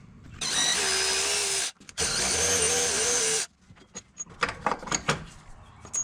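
Power tool spinning brake caliper bolts off a Honda Odyssey FL350: two loud sustained whirring bursts with a short pause between, then scattered clinks and rattles of parts being handled.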